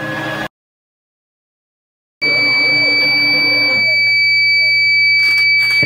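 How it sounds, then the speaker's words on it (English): A UPS inverter on a DIY lithium battery build sounds a continuous, piercing high electronic warning tone for low voltage, loud and close, after a brief silence, with a low hum underneath. "the inverter is starting to beep because it's getting low voltage"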